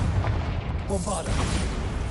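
A blasting spell explodes in Hogwarts Legacy, a dull booming burst under a steady wash of game ambience, followed by a few fainter crackling after-rumbles.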